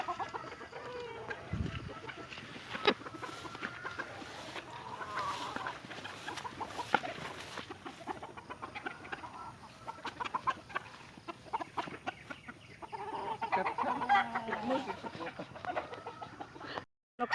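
Farm chickens cluck and murmur at their 6 a.m. morning feeding, with scattered calls over a quiet, rustling yard, moderately distant and fairly faint, with no talk.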